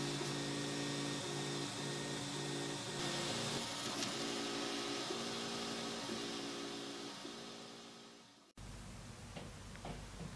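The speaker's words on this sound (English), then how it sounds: "we are now finally ready to start printing." A 3D printer runs a print job at montage speed, its stepper motors giving a steady mechanical whir with repeating stepped tones, close and continuous, then briefly cutting off before a quieter hum resumes.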